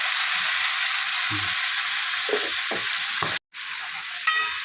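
Chopped vegetables sizzle in hot tempering oil for sambar, a steady loud hiss broken by several stirring scrapes and knocks, with one brief dropout near the end.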